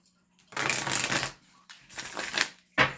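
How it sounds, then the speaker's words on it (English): Tarot cards shuffled in three bursts of crisp, dense riffling, close and fairly loud, with short pauses between the first two bursts and a brief final flick. "I just like to shuffle even though I pre-shuffled them, because I just feel like it pulls in the energy"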